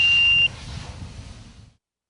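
Platform alarm on a JLG 1250 AJP boom lift, a single steady high-pitched electronic tone lasting about half a second, loud and close, followed by faint low hum before cutting to silence.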